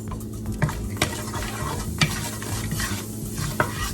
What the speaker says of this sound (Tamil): ஸோ ஆயில் சூடான உடனே சீரகம், பட்டை, ஏலக்காய் அண்ட் 3 கிராம்பு, அதுக்கப்புறம் கொஞ்சமாக வந்து ஸ்டார் அனீஸ் வச்சுருக்கேன்.